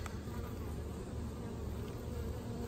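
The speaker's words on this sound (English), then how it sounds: "The bees down here just totally calm." Honey bees around a calm beehive on a warm evening make a steady, even drone of buzzing, soft and continuous throughout.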